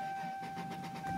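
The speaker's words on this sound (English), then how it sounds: "Here, let's turn the car on." Engine of a 1993 Lexus SC300 with lowered suspension catching and settling into a steady running note, brief and close, with a faint electrical whine in the background.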